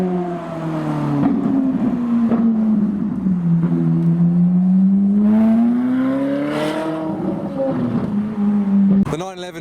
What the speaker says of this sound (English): there's a Liberty Walk Ferrari 458 Spider downshifting